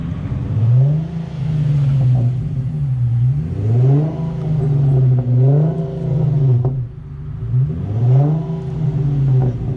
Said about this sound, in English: What you got in there? What exhaust is that?